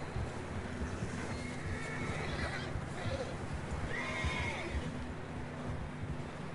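A horse whinnies twice in Red Dead Redemption 2, each neigh a rising then falling cry over a steady, dense bed of game ambience and low rumble, with a faint rhythm of hooves beneath.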